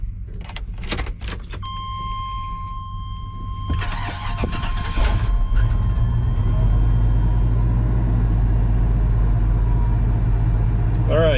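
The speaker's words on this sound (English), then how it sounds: "take you guys through the startup sequence here for when you get your own bucket truck" A bucket truck engine cranks and catches, settling into a loud steady idle after some keys jangling and clicks; the startup is close and fills the rest of the span, with no talking.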